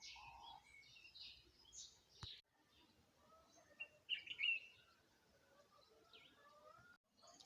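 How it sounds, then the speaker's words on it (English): Various wild birds sing and chirp outdoors around bushes and rooftops, several overlapping calls of different species at moderate distance, with brief louder calls and a quiet background. "I can count up to around 15 sounds of different bird species."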